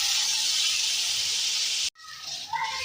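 Tomatoes go into a pan of frying onion and garlic, giving a loud steady hiss that cuts off abruptly, then resumes as a softer sizzle with small bursts.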